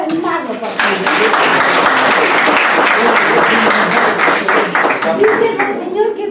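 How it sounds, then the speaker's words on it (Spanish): Loud, dense applause from an audience welcoming a bishop to speak at a gathering on the Amazon synod, sustained for several seconds with a brief dip near the start and scattered voices beneath. "con un aplauso para animarlo, por favor"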